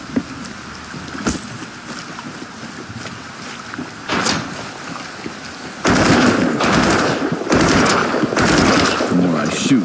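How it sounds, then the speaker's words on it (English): Gunfire in the apocalyptic souls-like roguelike Sancticide comes as sharp, separate shots early on, then builds into a louder stretch of repeated firing, with a voice talking at times. "The more I shoot, the more I attract the enemy."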